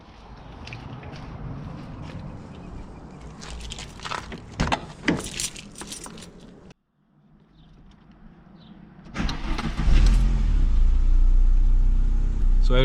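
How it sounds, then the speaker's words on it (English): An Audi A3 8L engine starts and runs close by after a fuel pressure regulator replacement. Clicks and handling noises come first, then a short pause. The engine catches and settles into a steady, loud idle. "And now let's start the engine to see if everything is okay."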